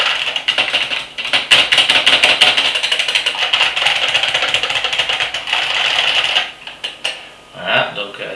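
Dense, clattery clicking of an IBM Model M's buckling-spring keys, fast continuous typing close up, trailing off into a few scattered keystrokes at the end.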